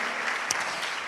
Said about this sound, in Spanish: yo pido un aplauso para ese hombre hermoso que Dios me ha dado como mi padre espiritual, Elvis Samuel Medina